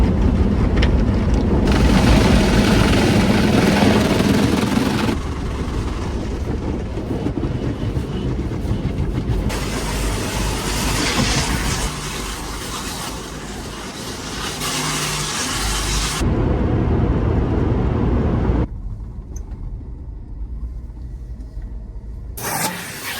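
An automatic car wash heard from inside the car, with a loud steady rumble and the roar of spray and brushes that shift in intensity across several stages, then a quieter stretch near the end, with no talking.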